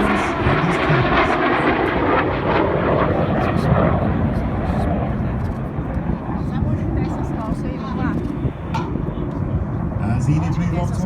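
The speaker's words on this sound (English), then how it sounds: "Here comes the rear section, Red 6 and 7, about to roll inverted and fly formation down the line." Red Arrows jet aircraft flying in formation at an air show in New York, a loud continuous engine roar filling the air while a commentator talks over it.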